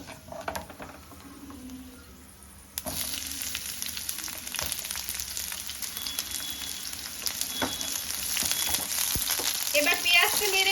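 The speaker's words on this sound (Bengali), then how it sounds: "কালো জিরের থেকে একটু গন্ধ বার হলেই আমি এর মধ্যে দিয়ে দেব পেঁয়াজ কুচি।" Chopped onions go into hot oil with nigella seeds and fry, a sudden rise into a loud, steady sizzle with occasional stirring clatter and pops that grows a little stronger over time.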